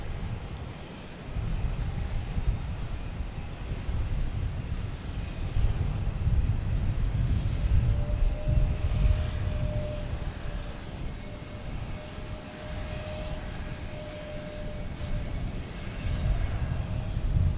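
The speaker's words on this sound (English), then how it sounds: "Now we have a JetBlue and A220 coming in from Cleveland." A JetBlue Airbus A220 arriving at Boston Logan from Cleveland gives a broad, steady low engine rumble that swells slightly and holds, heard from a rooftop with gusty wind noise.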